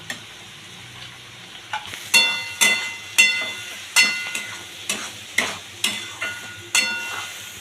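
A spatula stirs egg with vegetables and stale roti in a frying pan, giving about ten regular, sharp scrapes and taps over a soft sizzle, close and clear with no talking.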